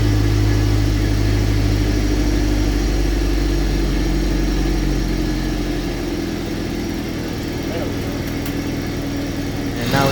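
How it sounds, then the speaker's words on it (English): A car engine idles steadily with a low, even rumble, settling slightly lower partway through, with a brief click near the end. "Now it's idling much lower"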